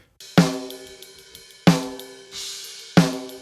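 Three sharp snare drum hits, evenly spaced, with a thin, snappy crack and short ring, played alone.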